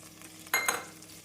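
Green chilli, coriander and mint leaves sautéed in a pan for coconut milk rice: a quiet background hiss broken by one brief stirring scrape and sizzle near the middle.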